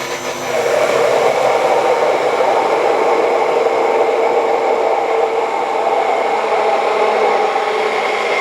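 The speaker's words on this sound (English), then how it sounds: "Bang your immersion blender in, and then you want to turn it on full speed." A handheld immersion blender runs at full speed, whipping oil into a gochujang mayonnaise. After a brief start it holds a loud, steady whirring drone with no pauses for about eight seconds, close up and with no talk over it.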